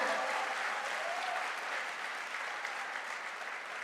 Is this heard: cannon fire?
no